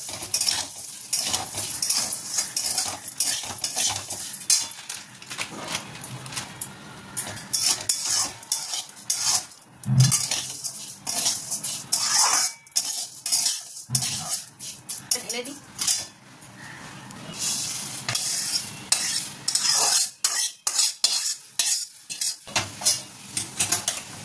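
Roasted vermicelli and cashews in ghee are stirred in a pan, producing close, repeated scraping and metallic clinks of a spoon against the pan over a low sizzle, with irregular bursts and brief pauses.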